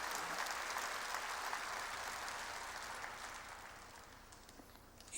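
A church congregation applauds during a worship service, a steady wash of clapping heard at a distance that fades gradually over about five seconds.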